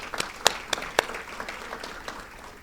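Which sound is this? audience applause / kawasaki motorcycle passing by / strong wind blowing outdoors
audience applause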